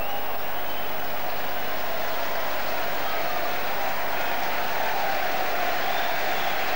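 A large football crowd at Leeds United versus AS Roma, 2000, applauds steadily, a dense continuous wash of clapping heard from a distance, with no break.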